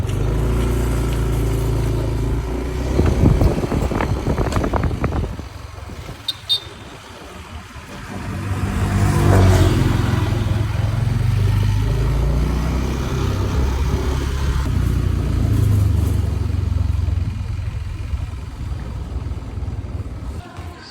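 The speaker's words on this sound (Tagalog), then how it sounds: "maraming sasakyan dito" Cars and motorcycles pass near an outdoor basketball court, their engines surging and fading one after another, with a louder revving pass in the middle and a steady traffic hum underneath.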